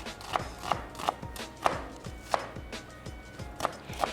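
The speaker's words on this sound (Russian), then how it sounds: "Для этого нам понадобится репчатый лук. Режем все произвольно" A knife chops onion on a board for lentil soup, seven sharp, close, fairly loud cuts spaced irregularly across the clip with no talk.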